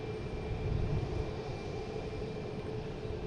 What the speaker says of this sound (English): Should be Iceland Air. It is. Coming in from Keflavik. I think it's a 767.